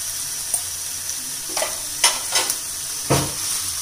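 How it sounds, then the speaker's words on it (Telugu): Ivy gourd pieces frying in a pan with turmeric, a steady soft sizzle under a few sharp scraping stirs of the spatula, the last one loudest; no one talks. "ఈ దొండకాయల్ని మనం బాగా వేయించుకుందాం కొద్దిసేపు."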